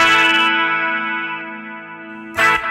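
Electric guitar played through a NUX Trident preset with the bright setting turned off, a sustained distorted chord ringing out and fading before a fresh strum near the end.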